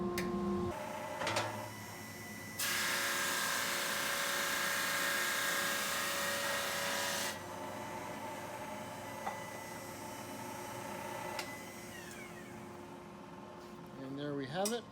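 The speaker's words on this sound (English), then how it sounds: "we're gonna make a couple passes through the sander to get it right exact size" A sander takes passes on the top of a wooden box to bring it to an exact size. A loud, steady broadband whir lasts about five seconds, with quieter shop noise before and after.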